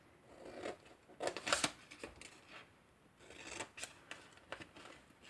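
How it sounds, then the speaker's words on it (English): Scissors snip along a scored line to cut a small piece off a simple fold-over-top bag, giving several quick rasping cuts in short bursts, close and fairly quiet, with no talk. "cut straight up the scored line and cut a little piece off the square there"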